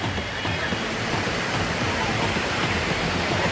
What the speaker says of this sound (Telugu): దాని పక్కన ఉన్న వాటర్ ఫాల్స్